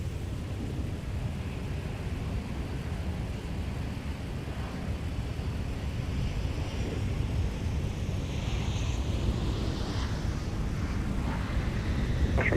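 A Sun Country airliner in special Golden Gopher livery lands on runway 12 right at Minneapolis–Saint Paul airport. Its low, continuous jet rumble and roar swell slightly toward the end, with some wind noise and no talking.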